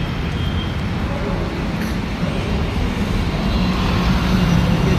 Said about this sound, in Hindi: दिखाते हैं जयपुर का कितना ट्रैफिक, कितना मार्केट रहता है नाइट को।